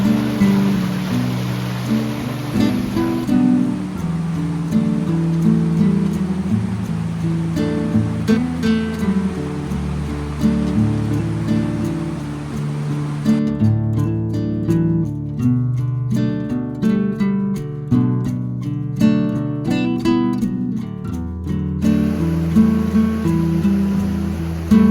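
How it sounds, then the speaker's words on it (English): A creek near a waterfall rushes loudly and constantly, a dense wash of splashing water close by with no voices, holding a steady level throughout. "it's kind of loud over here from the creek"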